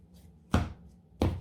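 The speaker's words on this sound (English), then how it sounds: "So let's give the deck another shuffle." Two brisk riffling bursts from shuffling a Cardfight!! Vanguard card deck, close and fairly quiet, separated by a short pause.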